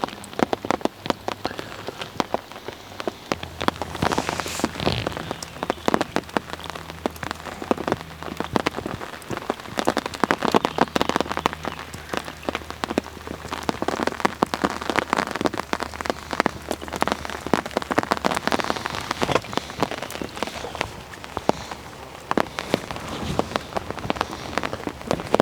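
Steady heavy rain falls on an estate lake, a dense continuous patter of drops hitting the water surface that stays loud and even throughout, with no voices.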